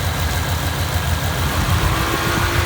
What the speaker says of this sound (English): if you can hear that little ticking